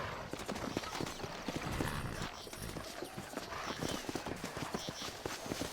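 Rapid clip-clop of horse hooves at a steady gallop in the video game Red Dead Redemption, close and continuous, with faint rumbling background noise throughout.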